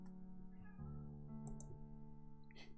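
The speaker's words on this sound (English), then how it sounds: "He's meowing all the time." A cat meows softly a few times, close by, with faint clicking in the background.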